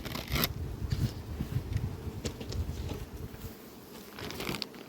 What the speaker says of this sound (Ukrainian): Тут бджоли більш ніж достатньо.